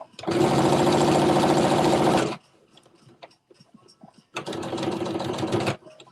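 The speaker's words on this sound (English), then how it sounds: "Back stitching as usual." A home sewing machine back stitching a Simplicity Mimi G. Styles S9463 garment: two loud, steady runs of fast needle chatter, the first about two seconds long, then a quiet gap with small handling clicks, then a second burst.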